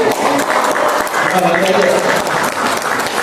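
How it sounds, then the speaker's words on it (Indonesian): Steady clapping from a crowd at a training session at a university, sustained throughout with voices mixed in underneath. "Tepuk tangan buat masyarakat"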